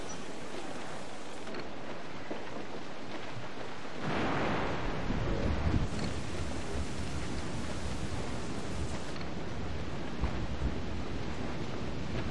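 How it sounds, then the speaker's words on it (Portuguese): Storm wind and heavy waves at sea in Assassin's Creed 4 Black Flag, a steady broadband roar that swells louder after a few seconds and keeps surging, with no voices over it. "Tempestade, capitão. Parece feia."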